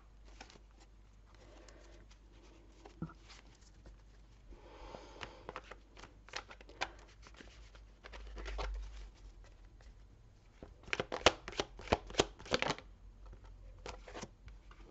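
Tarot cards are shuffled by hand for a reading, with soft riffling patters and brisk flutters in scattered bursts, quiet and close with no talking.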